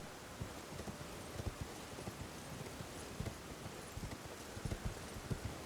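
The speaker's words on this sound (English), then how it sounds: "this horse is like Mountain Goat. It's so sure-footed." A horse's hooves clip-clop steadily over ground in the video game Elden Ring, a quiet, continuous trotting rhythm with no voices.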